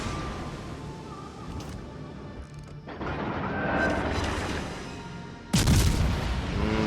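Heavy naval gunfire in the World of Warships Legends game, with a cruiser trading fire against an Iowa-class battleship: dense rumbling booms and crashes, ending in a sudden loud salvo blast near the end.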